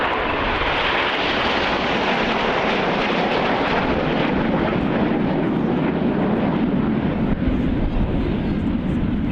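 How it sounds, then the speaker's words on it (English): A Typhoon fighter jet roars past at a Red Arrows display at RIAT 2013, a loud, continuous broadband engine rumble and rush that fills the whole stretch, with a commentator faintly audible beneath it. "In from the left-hand side now, this is Typhoon."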